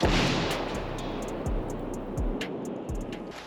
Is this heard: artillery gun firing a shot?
yes